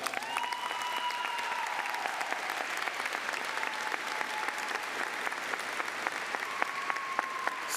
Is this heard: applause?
yes